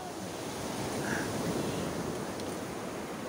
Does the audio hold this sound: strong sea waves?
yes